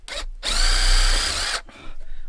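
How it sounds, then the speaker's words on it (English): A power drill whines at high speed for about a second, drilling pilot holes for RV overhead wall cabinets, then stops, with brief motor bursts just before and after. "what I like to do is also drill pilot holes."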